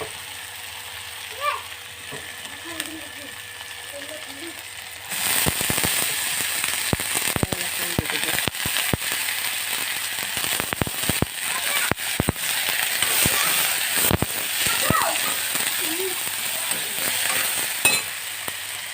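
Potatoes and brinjal fry in a pan in a village kitchen, a dense crackling sizzle that starts abruptly about five seconds in and keeps popping loudly to the end, after a quieter opening with faint voices.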